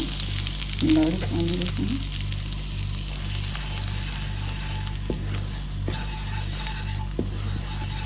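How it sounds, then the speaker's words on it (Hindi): Flour frying in butter or oil in a pan for a lasagna white sauce makes a steady, low sizzle under a constant mechanical hum, with a brief voice early on and occasional soft clicks. "और इसे 2 मिनट के लिए हम करेंगे फ्राई।"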